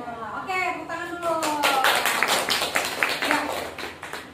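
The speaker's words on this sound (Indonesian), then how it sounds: "Oke, tepuk tangan dulu." Children in a classroom clap their hands in a burst of scattered, uneven claps while young voices chatter and call out over and before the clapping.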